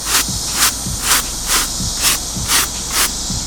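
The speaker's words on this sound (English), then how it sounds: "Now you can take a brush and sort of brush it as you're spraying it" Rhythmic bursts of spray paint hissing onto couch fabric in an Airstream interior, about eight short pulses evenly spaced, close and fairly loud with a steady background hiss between them.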